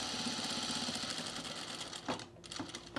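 A sewing machine stitches to reinforce the corners of a refashioned sweater, its close, steady rapid whirring running almost without a break before a short pause and a restart.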